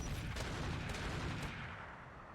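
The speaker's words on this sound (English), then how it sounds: "Yeah, that's all their turrets going off there." Turrets fire in the RogueTech BattleTech mod, a dense, continuous barrage of overlapping shots and booms that stays loud throughout, easing slightly toward the end.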